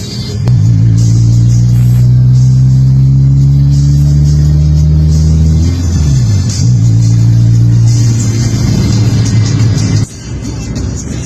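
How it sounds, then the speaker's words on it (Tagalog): A Mitsubishi Lancer GSR coupe's exhaust runs through a scav muffler, giving a loud, close engine drone with a rev rise and drop midway before the note steadies again. "Dito ililipat ko na sa scav muffler."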